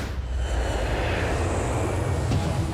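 A real airplane's engines run on a film set, giving a steady, loud broadband roar with a deep low rumble that holds constant throughout, with no talking.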